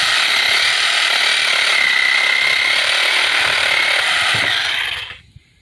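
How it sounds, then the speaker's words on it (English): A battery-powered saw cuts a 45-degree angle through a 1.5 by 1.5 inch wooden post, a loud steady whine for about five seconds that stops abruptly. "I'm going to cut a 45 with this battery powered"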